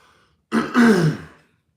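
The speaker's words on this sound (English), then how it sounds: "it makes you clear your throat up here." A single close, throaty clearing of the throat, rough and brief, in an otherwise quiet space.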